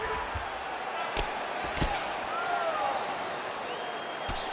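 Arena crowd at an EA Sports UFC 5 fight, a continuous broad roar of cheering and applause with a few sharp thuds of strikes landing, steady and fairly loud from start to end.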